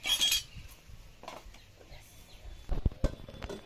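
A lid is set on a pot of bottle gourd curry cooked with coconut, giving a few soft handling sounds and then two or three sharp metallic clinks near the end.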